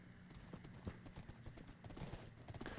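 Horse hooves clip-clop in steady, fairly close rhythm while riding in the Minecraft video game, a continuous patter of light hoofbeats that runs throughout.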